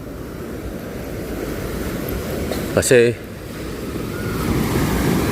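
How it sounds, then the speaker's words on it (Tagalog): Steady roar of surf and wind fills the scene, with waves rumbling continuously; a brief spoken word cuts through midway. "Ayan ang panahon, malalaki na agad ang alon."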